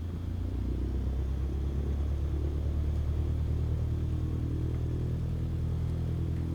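A simulated aircraft engine in Microsoft Flight Simulator throttles up for takeoff, a steady low droning rumble holding at even loudness with no talk.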